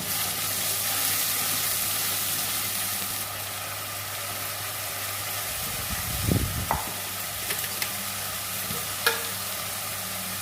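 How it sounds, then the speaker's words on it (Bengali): Ginger garlic paste with ground cumin, coriander and dried chilli paste is stirred in a pan, giving a faint, soft sizzle with a few clinking stirs and scrapes midway, no talking. "এক চামচ আদা রসুন বাটা এক চামচ জিরে ধনে লঙ্কা শুকনো লঙ্কা বাটা এগুলো আমি কষে নেব"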